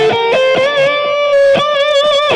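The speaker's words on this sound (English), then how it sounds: "there's the big delay, big lead tone in which I play most of the melody parts with" Distorted electric guitar lead tone with a double delay, triplet and quarter-note repeats, playing a sustained melody with picked attacks and echoing repeats, loud and close, no reverb.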